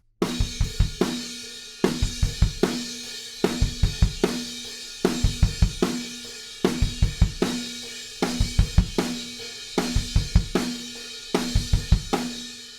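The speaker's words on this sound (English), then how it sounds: "our next groove has 4 snare drums on the bar," A tight drum groove loops steadily, crisp snare hits driving each bar while rapid kick drum bursts fill between them, loud and repeating throughout.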